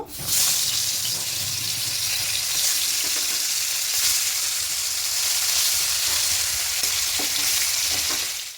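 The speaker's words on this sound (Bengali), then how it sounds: "এবার তেলটা গরম হয়ে গেছে মাছগুলো দিয়ে দেব" Sardine-like fish rubbed with salt and turmeric fry in hot oil in a pan, giving a loud, continuous close-up sizzle and spatter that holds steady throughout with faint scraping underneath.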